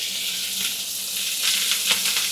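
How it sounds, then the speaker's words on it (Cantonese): Shrimp sizzling in hot oil for garlic spicy stir-fried shrimp, a close, steady hiss of frying with brief crackling bursts toward the end and no voices. "我哋咧要煎香佢啊"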